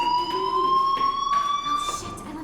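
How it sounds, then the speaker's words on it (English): A fire alarm rings in the Life is Strange video game, a loud, steady electronic tone with bright harmonics that holds without a break and carries no speech. "Hey, do you hear that fire alarm?"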